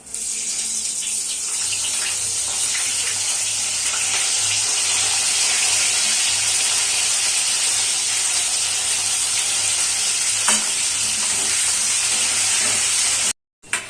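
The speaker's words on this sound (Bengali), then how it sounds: "এবার এই তেলের মধ্যে আমি ফুলকপিগুলো একটু ভেজে নেব।" Cauliflower pieces fry in hot oil with a continuous, loud, hissing sizzle that holds steady for over ten seconds before cutting off abruptly.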